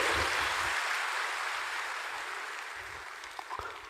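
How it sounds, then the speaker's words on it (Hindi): Audience applause at an official government ceremony, a steady broadband patter of many hands clapping that gradually thins and fades toward the end, followed by a couple of faint knocks. "जोरदार ताली होनी चाहिए, ये सम्मान आप सबकी ओर से है।"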